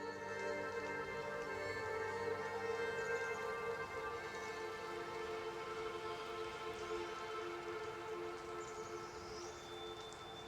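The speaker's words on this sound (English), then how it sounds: "As the rain amount increases, we trigger some close perspective raindrops" Steady video game rain hiss from Nightingale with light pattering drops over a sustained tonal background, even and continuous throughout.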